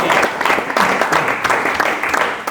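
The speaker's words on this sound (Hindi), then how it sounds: "लड़की के लिए जोरदार ताली बजा दो।" A crowd at a motivational talk on mindset applauds loudly for a girl, with sustained, dense clapping and a faint voice underneath.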